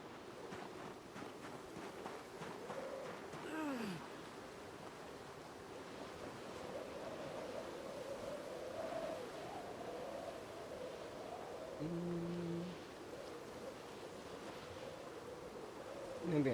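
Wind blowing in a survival video game, a steady hollow rushing noise with surf-like swells that rises and falls without stopping, with a few faint tonal interface blips near the end.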